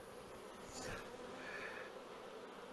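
Honey bees in a queenless nuc box give a brief, faint, continuous buzz close to the microphone, with no voices over it.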